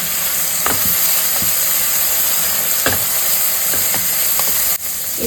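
Kashmiri chili powder and turmeric hiss and sizzle steadily in hot oil, a continuous frying noise with a few faint clinks from stirring.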